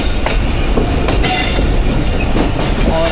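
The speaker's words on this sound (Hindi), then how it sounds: "तो संजानी रेलवे स्टेशन की लूप लाइन पे हमारी ट्रेन लग रही है" The 13 UP Awam Express passenger train running on the line near Sanjani station, a loud continuous rumble with rhythmic wheel clatter over rail joints and brief metallic squeals.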